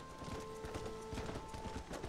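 Rapid hooves pound in a quick galloping rhythm from a horse in Red Dead Redemption, faint and steady under game ambience.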